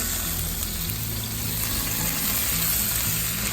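Green peppers and onions fry in a pan with a steady, dense sizzle, joined by a low pulsing hum, with no voices over the cooking.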